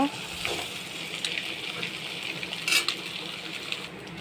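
Eggs fry in a pan of oil with turmeric and salt, giving a soft steady sizzle with occasional spatula stirs and a metallic clink or two, fairly quiet overall.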